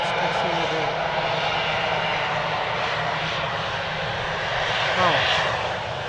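Aircraft taxiing fast at Edmonton International Airport, a loud steady engine roar held throughout at moderate distance, with a faint brief whine near the end.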